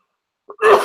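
A single short cough, close and fairly loud, preceded by a brief throat sound, heard alone without talk.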